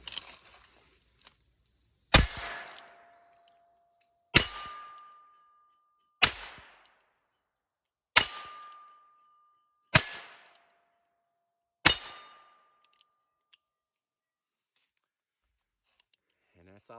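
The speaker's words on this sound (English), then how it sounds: "Let's see if we can ring some steel plates." Six sharp shots from a Heritage Rough Rider single-action .22LR pistol, each followed by a ringing metallic clang of a struck steel plate, evenly spaced about two seconds apart in a backyard, fairly loud with short decays.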